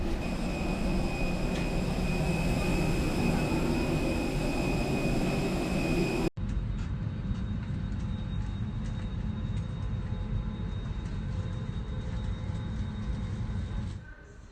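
Steady, loud cabin rumble of an airliner on a night flight to Istanbul, a continuous broadband roar with a faint constant whine, a brief cut partway through, and no voices.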